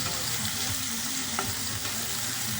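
Coriander seeds sizzle and crackle steadily in a hot pan alongside vegetable pieces for cabbage tomato pachadi, a dense continuous frying hiss with faint stirring, close and fairly loud throughout.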